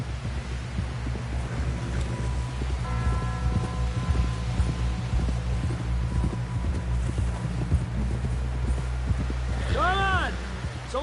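Horse hooves clip-clop steadily in Red Dead Redemption 2, running under a low engine-like hum and rustle, with a brief whinny near the end and voices talking over the ride.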